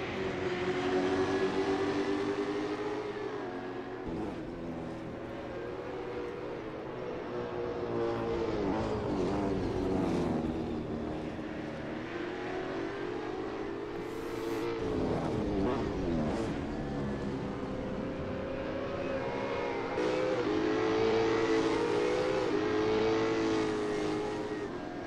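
V8 race cars lapping Imola in a racing sim, engines droning and revving continuously with rising and falling pitch as cars accelerate, brake and pass, loud and close throughout.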